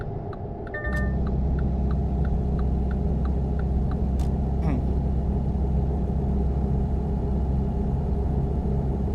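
A truck engine drones steadily in American Truck Simulator, starting abruptly and holding a low, even rumble, with a few faint clicks and tones on top.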